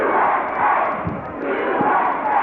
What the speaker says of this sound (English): The USA chant.